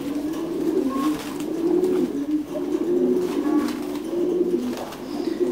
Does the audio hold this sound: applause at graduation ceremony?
no